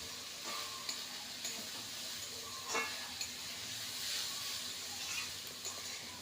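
Green chillies stirred into a frying pan while cooking a Bengali muri ghonto of ash gourd, a soft continuous sizzle broken by scraping stirs and light clinks, no voices.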